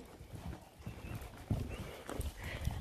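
A horse's hooves thud in an uneven rhythm during a riding session, fairly faint and close, with little else heard.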